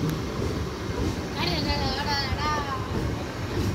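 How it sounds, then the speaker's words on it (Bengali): A down Bandel–Naihati local train heading toward Hooghly Ghat station rumbles steadily as a continuous broadband roar, with a wavering tonal whine rising briefly in the middle. "ডাউন ব্যান্ডেল নৈহাটি লোকাল ট্রেনটি হুগলিঘাট রেলওয়ে স্টেশন অভিমুখে যাচ্ছে।"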